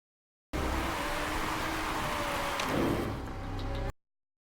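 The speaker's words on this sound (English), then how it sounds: "The rain's going to come pretty steady from here on out." Steady rain during a wet motor race in the Motorsport Manager 2 management game, a continuous broadband hiss lasting several seconds at even loudness, with no voices.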